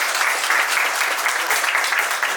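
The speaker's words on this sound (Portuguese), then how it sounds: "Palmas pra isso" Lively applause from a group at a presentation or workshop, steady fast clapping at constant loudness from several people for a couple of seconds, without speech.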